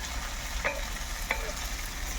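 Cabbage and potato stirred into frying masala, a dense steady sizzle with two brief scraping stir strokes, close and even.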